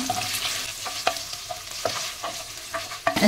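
Three chopped onions sautéing in a pan for a village-style country chicken curry, a steady sizzle broken by scraping spoon strokes, close and with no talking.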